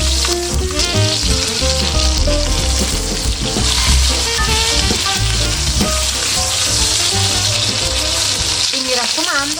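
A citrus-seasoned meat roast sears loudly in a hot pan, with steady intense sizzling and crackling throughout and occasional stirring or shifting sounds.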